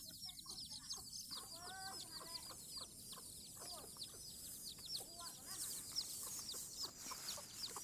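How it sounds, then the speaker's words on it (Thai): Chickens cluck and chatter softly in the background, several birds calling in quick repeated bursts under a faint hiss. "น้องไก่"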